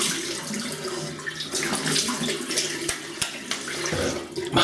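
Cold water runs steadily from a tap into a sink for a shaving rinse, with splashing and small knocks as hands and face meet the stream, close and continuous throughout.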